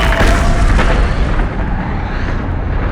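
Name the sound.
almighty explosion sound effect resounding across the cosmos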